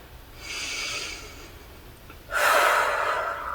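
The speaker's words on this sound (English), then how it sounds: "One more deep breath here" A deep breath drawn in during a stretching exercise, a soft airy inhale followed by a louder, forceful exhale, close and alone without talk.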